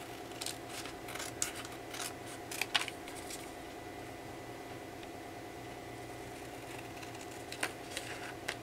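Scissors snip paper being trimmed for a Christmas card, a few quick close cuts in small clusters over a faint steady hum, with no voices.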